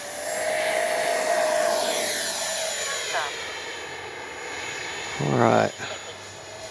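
An FMS Avanti S 70mm RC jet flies overhead with a steady whining engine tone throughout, briefly swelling louder near the end, while someone speaks a couple of words.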